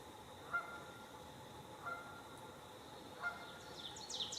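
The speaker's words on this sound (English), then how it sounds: "goose honking" A goose honks outdoors, three faint, evenly spaced calls over a steady background hiss, with fainter bird chirps near the end and no talking.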